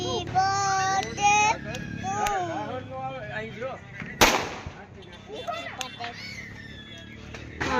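Diwali firecracker bombs burst amid a family celebration, one sharp loud bang standing out in the middle while children and adults chatter and call out around it.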